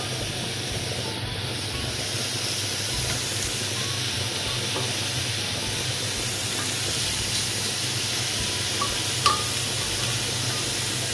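Lamb chops sizzle on a dry pan grill with no oil, a steady broad hiss holding even and close throughout, with one small pop near the end.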